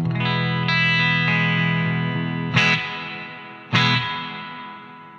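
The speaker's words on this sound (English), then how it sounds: "Spring reverb." A guitar rings through a Bogner Goldfinger amp with its spring reverb switched on, as long sustained chords are followed by two sharp struck chords whose tails bloom and decay, loud and without talking.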